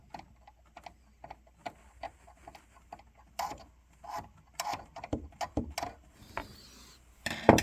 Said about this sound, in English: get a long tipped screwdriver like this, and you can actually rotate this gear counterclockwise